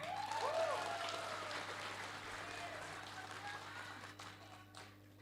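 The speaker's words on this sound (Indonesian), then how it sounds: "Tepuk tangan untuk mereka bertiga." A crowd claps for three people at an Indonesian national political oration, a dense steady patter of applause that is loud at first and gradually fades toward the end.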